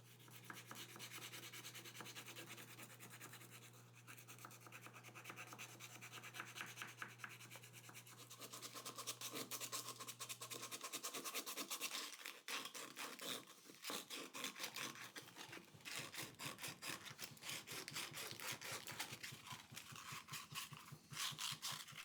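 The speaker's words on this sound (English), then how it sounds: "finishing at 120 grit by hand with my finger" Hand sanding inside a small wooden box made from scrap 4x4s, finishing at 120 grit with sandpaper over a finger: quick, rhythmic rubbing strokes, close and fairly quiet, with a low steady hum in the background for the first half.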